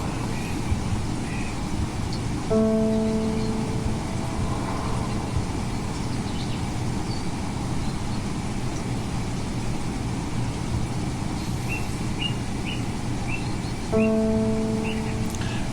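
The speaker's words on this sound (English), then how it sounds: "listen to the sound of the rain and the birds" Steady rain hisses throughout while birds chirp in scattered bright calls, most noticeable toward the end; a low sustained tone sounds briefly twice over the rain, with no talking.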